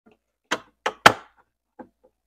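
A new refrigerator water filter is pushed in and twisted into place, with three sharp plastic knocks and clunks in quick succession followed by a softer click, close and otherwise quiet.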